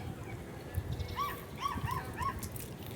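A pet dog at a home vegetable garden gives a short run of high, nasal whimpering yips, four or five quick cries close by, over faint background rustle.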